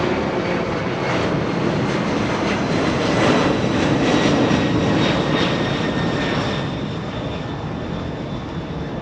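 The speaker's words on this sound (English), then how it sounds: "This is a DHL 767 getting a move on." A DHL Boeing 767 cargo jet departs LAX, its engines a loud, steady broadband roar with a thin whine on top that swells and then eases slightly as it climbs away.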